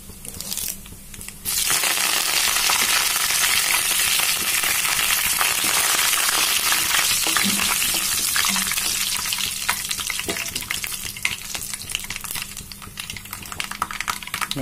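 Taro pieces frying with curry leaves in hot oil, a loud continuous sizzle that starts suddenly and holds steady, with occasional stirring scrapes and crackles.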